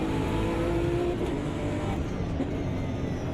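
A BMW GT3 race car engine in the Automobilista 2 racing game drones steadily under acceleration on the Nordschleife, a continuous loud engine note with no break and no talk.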